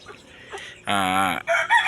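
A rooster crows once loudly and close by, a single drawn-out call following a stretch of faint background noise, then a few softer clucking calls.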